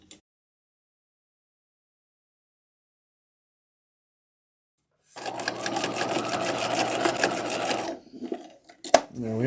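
A sewing machine stitches a structured bodice lining in one steady run of a few seconds after silence, then stops, followed by a few faint handling sounds.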